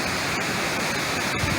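A waterfall roars steadily, a dense, continuous rush of falling water that stays loud and unbroken for the whole short stretch.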